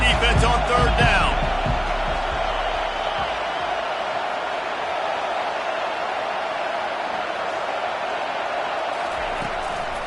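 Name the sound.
stadium crowd noise rising on 3rd down, College Football 25 video game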